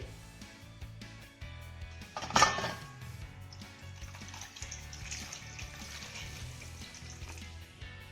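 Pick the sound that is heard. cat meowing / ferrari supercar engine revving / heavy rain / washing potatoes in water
washing potatoes in water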